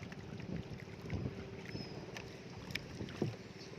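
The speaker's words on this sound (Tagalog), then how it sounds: "Yan o, mga dimotor na bangka." Motorboats chugging on open water, engine drone and splashing waves under gusts of wind buffeting the microphone.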